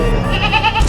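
A single goat bleats close and loud in a short, wavering call at a temple during a sacrificial ritual.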